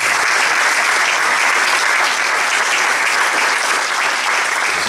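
Sustained applause from an audience on a live Portuguese program, greeting a visiting school class and their teachers; dense, even clapping fills the whole stretch without a break, loud and close.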